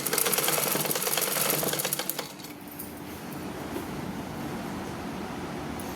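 A normal household sewing machine stitches folded saree edges in a fast, dense mechanical whir that is loud for about two seconds and then drops to a quieter hum. The sound is close, with no speech.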